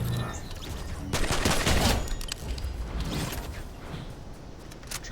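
Primal weapons firing in the video game Fortnite, a loud burst of rapid gunfire with mechanical clatter at first, then quieter scattered shots and creaks trailing off.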